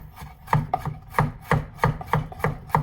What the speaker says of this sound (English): more finely chopped, you can chop like this